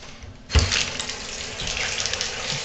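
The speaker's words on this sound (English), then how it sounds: "To run the water, fill the tub up." Water suddenly starts gushing from a tap and keeps running steadily, a loud close splashing rush like a tub filling.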